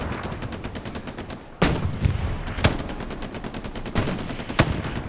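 Gunfire in the Hell Let Loose video game, with a steady crackle of distant shots and several louder, sharper near cracks. No one talks.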